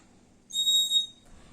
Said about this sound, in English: The empty bird makes a normal whistle sound and the bird filled with water makes bird chip sound.